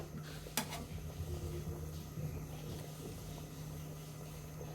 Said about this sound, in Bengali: এখন আমরা মাংসগুলো দিয়ে দিব